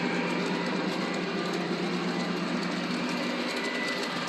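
A CP freight train rolls by at close range, a steady loud rumble and rush of wheels and cars filling the whole stretch without pause.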